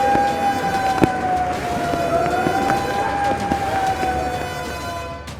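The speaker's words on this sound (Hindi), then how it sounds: "खतरे की चेतावनी देने वाले सायरन की आवाज सुन रहे हैं आप।" Flood danger warning siren wailing steadily at a distance, a sustained tone that slowly rises and falls over constant outdoor background noise, with an occasional sharp knock.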